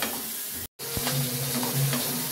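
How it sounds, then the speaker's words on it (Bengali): Eggplant slices fry in hot oil with a steady, moderately loud crackling sizzle, briefly cut to silence near the start before resuming evenly. "বেগুনটাকে ভালো করেই আমি ভাজবো"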